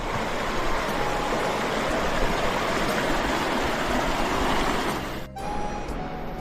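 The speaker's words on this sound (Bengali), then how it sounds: "শান্ত গতিতে মৃদু আওয়াজ করতে করতে রংপোখলা এগিয়ে চলেছে।" The Rangpo Khola, a mountain river near Rongpo, flows gently over its bed, giving a steady, broad rushing murmur that stays even throughout and dips briefly near the end, with no voices.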